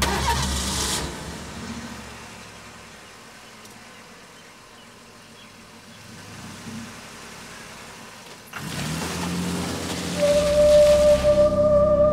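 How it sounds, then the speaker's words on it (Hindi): A car's engine cranks but fails to start. Grinding bursts come at the start and again near the end, with a quieter lull between them. "मैं जानती हूँ ये गाड़ी स्टार्ट नहीं होगी।"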